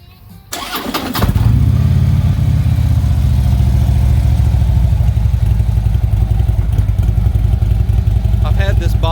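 A 2015 Harley-Davidson Electra Glide Ultra Limited with RCX exhaust starts after a brief crank, then settles into a loud, deep, steady idle with a lumpy pulse, heard close up.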